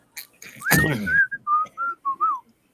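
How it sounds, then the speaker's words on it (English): A person whistles by drawing air inwards: a few breathy rising notes followed by a string of short, clear whistled tones close to the mic, with no talk. "I can't whistle outwards. I can only whistle inwards."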